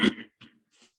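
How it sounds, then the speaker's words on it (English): A man clears his throat once in a short, rough burst, followed by two fainter, softer rasps, close and otherwise quiet. "I apologize for clearing my throat."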